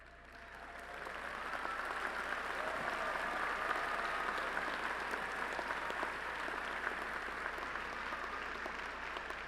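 College of Engineering commencement audience at Lamar University applauding doctoral graduates, sustained crowd applause swelling in and holding steady, heard from a distance in a large hall.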